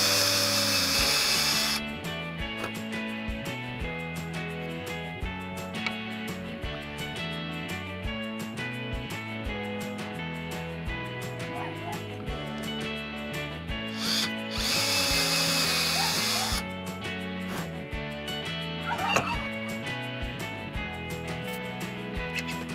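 A power drill bores into and drives fasteners through parts of a homemade fire bow and arrow, in repeated loud close bursts with brief pauses and a ratcheting whir between them.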